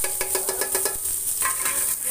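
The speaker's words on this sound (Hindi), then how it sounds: "और ये जो मैंने बेसन का बनाया है ये डाल देंगे फ्राई करने के लिए।" Gram flour (besan) batter frying in a pan, a steady close sizzle with repeated stirring and scraping strokes throughout, no talking.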